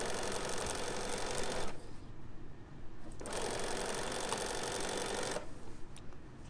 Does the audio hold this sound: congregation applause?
no